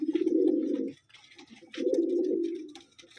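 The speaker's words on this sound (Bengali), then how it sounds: "এই নর পায়রা" A male pigeon gives two long, low, throaty coos close by, with a short pause between them and faint background chirps.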